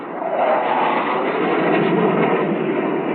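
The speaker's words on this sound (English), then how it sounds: "The attacking F-105 was accompanied by an F-100F chase aircraft" An F-105 jet flying with an F-100F chase aircraft during 1963 US Air Force weapons effects tests, a steady loud roaring rush of jet noise throughout, band-limited like old film sound.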